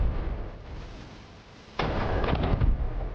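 A single heavy boom from an AK-50 large-calibre rifle, a sudden loud blast that cuts in partway through after a quieter stretch and rolls on with a long rumbling echo outdoors.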